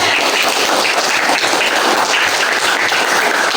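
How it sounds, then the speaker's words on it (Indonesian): A classroom of primary-school pupils claps together in sustained, dense applause, loud and close, with no talk over it. "Tepuk tangan untuk semuanya"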